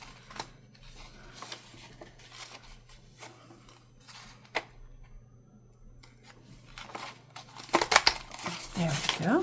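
Scissors snip through craft paper to trim a small tail piece for a handmade tag, with crinkling and rustling of the paper in short bursts and a louder flurry of handling near the end.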